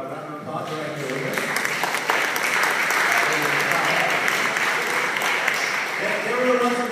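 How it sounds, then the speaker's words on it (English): A live audience at an educational technology event gives guests a warm round of applause, steady dense clapping that builds quickly and holds for several seconds before thinning, with some voices mixed in. "We give them a warm round of applause right here."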